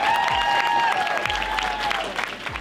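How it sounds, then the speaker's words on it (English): Ice hockey fans clap for their new head coach, a brief burst of crowd applause at moderate volume with a voice speaking over it. "How about a big round of applause for our new head coach, Pete Russell?"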